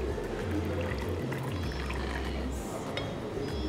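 Arabic coffee poured from a pot into a small cup, a soft steady liquid stream that sits under a constant low hum and busy room noise.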